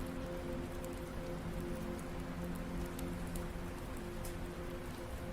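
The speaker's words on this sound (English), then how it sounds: "sound of rain." Soft rain falls steadily on a surface, an even, constant patter with scattered brighter drops and a low background hum.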